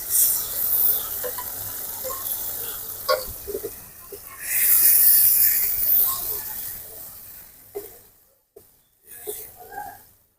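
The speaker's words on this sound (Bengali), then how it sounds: "মশলাটা কিন্তু কষানো প্রায় হয়ে গিয়েছে" Spice mixture with yogurt and fried garlic sautéing in a pan for chicken biryani, a steady close sizzle with scraping stirs that swell and fade, dropping into short quieter gaps near the end.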